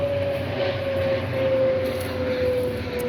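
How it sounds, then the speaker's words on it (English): Private planes come in overhead on a football game day, a loud, sustained engine drone with a steady whining tone that slowly drops in pitch, heard on its own. "there's private planes coming in for the fucking football game"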